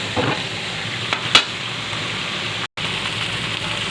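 Pancit miki bihon aromatics stirred and sautéed in a pan, a steady dense sizzle running throughout with a few brief utensil scrapes and one short dropout; no voices.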